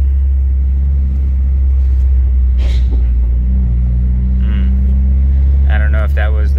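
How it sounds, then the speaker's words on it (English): Mitsubishi Lancer fitted with coilovers rolls over a small bump, giving a steady low road rumble inside the car with a brief thump partway through. "So there's a little bump here. I'm gonna run it over."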